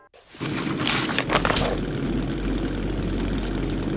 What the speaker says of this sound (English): Stop the engine!